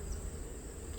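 Close, continuous buzzing of forager honey bees inside an Italian bee hive, a dense humming drone with no pauses.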